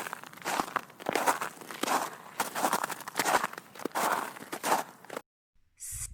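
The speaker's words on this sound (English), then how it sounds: "walking in the snow" Footsteps crunch through snow in a steady walking rhythm, close and fairly loud, each step a soft crisp crunch, stopping abruptly near the end before a brief faint sound.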